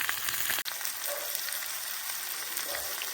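Steak and prawns sizzle over a campfire during outdoor wild-camp cooking in Scotland, a steady close hiss of frying with a single sharp click partway through.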